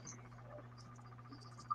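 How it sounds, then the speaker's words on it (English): Faint, steady cricket chirping pulses in the background, a thin high trill repeating quietly with a low hum underneath. "Your cricket's chirping again, Hutch."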